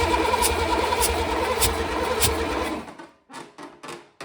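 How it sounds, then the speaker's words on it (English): A Cummins diesel engine in a Land Rover Defender build cranks loudly on the starter in a steady, pulsing churn for about three seconds, then cuts off, leaving a few short fading rumbles. "let's crank her for a bit and see what this gauge does"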